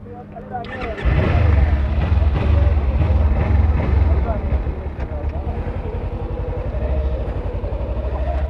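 Kawasaki Ninja 300 twin-cylinder motorcycle on the move, a steady smooth engine drone with a low rumble and wind buffeting the microphone, close and continuous throughout.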